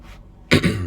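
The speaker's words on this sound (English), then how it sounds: "I keep clearing my throat" Someone clears their throat once, a short rough burst after a brief quiet breath.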